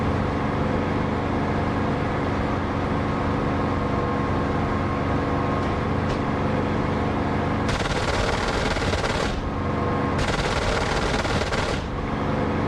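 Aircraft guns firing in the DCS flight simulator: a constant loud engine drone fills the whole stretch, broken by two bursts of harsh, rapid gunfire in the second half.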